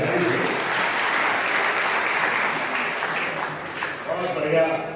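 A crowd at a Hindi poetry gathering applauds a poet with loud, sustained clapping that carries steadily throughout, with some voices mixed in near the end.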